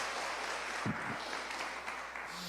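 A church congregation claps for Jesus during a worship service, a dense, steady wash of many hands close by, with no voices rising above it.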